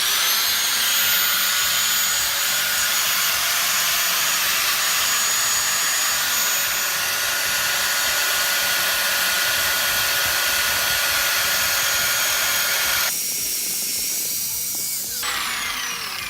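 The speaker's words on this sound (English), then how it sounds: "do this with an angle grinder" Angle grinder with its guards removed cutting into a metal gearbox from a robot lawnmower, a loud continuous high-pitched whine and grinding hiss that holds steady for about thirteen seconds before cutting off, followed by quieter rattling.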